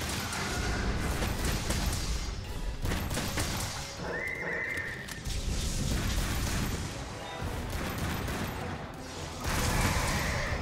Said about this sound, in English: Lots of explosions going off.